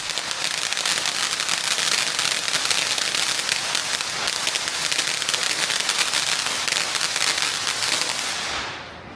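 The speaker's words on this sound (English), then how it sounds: "In some open areas, kids were happily setting off small fireworks." Small fireworks and firecrackers set off by kids in open areas during the Lantern Festival in a mid-sized Chinese city, a dense, continuous crackling barrage of rapid pops that stays loud throughout, then tapers at the very end.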